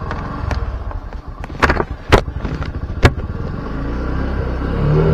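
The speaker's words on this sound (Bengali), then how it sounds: "মোটরসাইকেল স্টার্ট দিলাম।" A motorcycle engine is started: a few sharp mechanical clicks and thumps come first, then a steady, close engine rumble settles in and grows slightly louder toward the end, with no talking.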